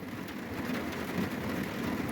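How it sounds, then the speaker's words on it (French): Heavy rain drums on the roof of an insulated van during a big thunderstorm, a steady dense patter heard from inside, moderately faint and unbroken. "ça pleut pas mal"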